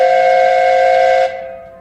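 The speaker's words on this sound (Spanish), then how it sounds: "El silbato resonó en el aire" A train whistle blows one loud, steady, clear-toned blast that holds evenly and then cuts off abruptly, leaving a faint ringing tail.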